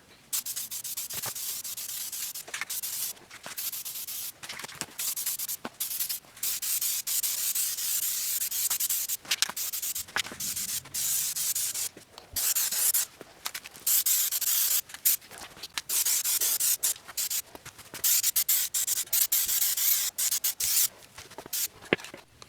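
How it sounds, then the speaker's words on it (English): Sandpaper rubbed by hand over primed Honda CR-V body parts, a close, steady rasping in repeated strokes with brief pauses between passes, no talking. "I'm going to go back through and sand these down and re-prime it"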